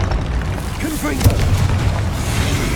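The Confringo spell in Hogwarts Legacy bursts with a loud, deep boom amid a busy wizard-duel soundscape, with a voice talking over it.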